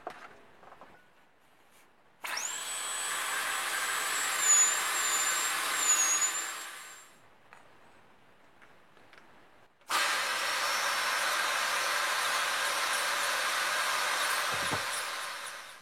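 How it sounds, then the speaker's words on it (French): Pneumatic dental Dremel with a diamond burr grinding the port of a Honda NSR 125 cylinder: two long bursts of high-pitched whining, close and fairly loud, separated by a quieter pause, the first with a rising tone as it spins up. "j'ai sorti la petite Dremel pneumatique du dentiste, comme ceci, vous voyez. Donc avec une fraise diamantée."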